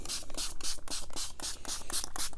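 Alcohol ink sprayed onto a craft surface in rapid repeated bursts, about ten short hissing puffs in a steady rhythm, close and fairly loud, with no talking.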